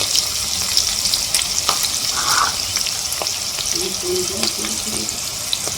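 Turmeric and ground cumin are mixed into a hot pan, a continuous loud frying hiss with scattered scraping clicks from the spoon.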